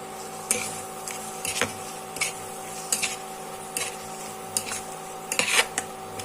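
A pan lid is lifted and a spoon scrapes and clinks against the pan while masala for rui fish kalia is stirred, with sharp intermittent metal taps over a low steady background hum.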